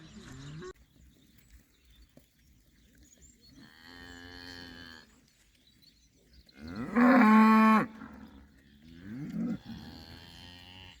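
A herd of cows with calves moos in the open, several long calls of varying pitch, one loud and near, others farther off, with faint bird chirps between.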